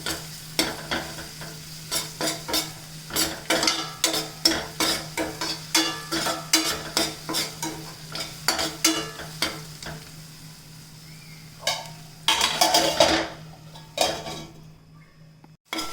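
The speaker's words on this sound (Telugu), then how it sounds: "ఉల్లిపాయ, చిన్నులపాయ, అల్లం పేస్ట్ వేగిందండి" Shallots, onion and ginger paste fry in a pan for a prawn fry, with repeated scraping stirs of a spatula against metal over a low steady sizzle, pausing briefly, then a final burst of stirring, with no talking.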